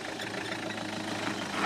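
A vehicle engine idles at low revs while the vehicle manoeuvres through a turn on a road trip through Greece, Albania and Montenegro, giving a steady rumbling drone throughout.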